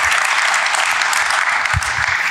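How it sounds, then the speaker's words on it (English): Dense, loud audience applause fills a concert hall at a symphony orchestra's live game-music show, steady clapping throughout. "Let's give him a hand of applause."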